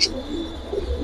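Red checker pigeons in a loft softly cooing, a brief low murmur of a few soft coos close by.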